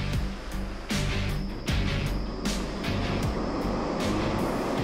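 A wind machine roars steadily, imitating the deafening main rotor of an emergency helicopter in a test setup; loud, continuous broadband rushing with surging pulses, no voices.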